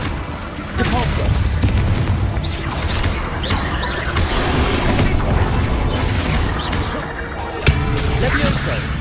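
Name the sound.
Depulso spell effect in Hogwarts Legacy video game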